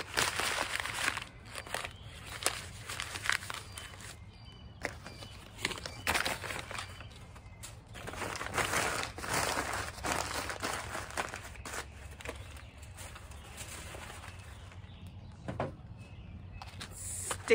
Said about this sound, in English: I crumble up the paper